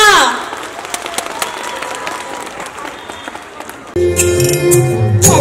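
A crowd at a school Parent's Day claps in a dense, moderately close round of applause that fades and then gives way to a louder burst of music and sound near the end.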